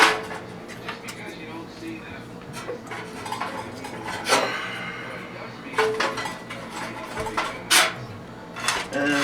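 Wood chunks and small twigs dropped into a metal wood gas stove, giving scattered clattering knocks and rattles of varying loudness, with a person talking in between.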